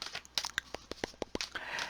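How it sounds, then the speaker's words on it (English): Tarot cards being shuffled by hand produce a quick run of crisp, papery snaps and soft riffling flutters, close and fairly quiet, with no speech. "right now I'm going to continue to shuffle"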